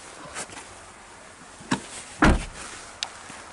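A few short knocks and clicks, then a solid thud of a Suzuki Swift 1.2 Dualjet Hybrid's boot lid shutting, followed by a light latch click, close by with no talking.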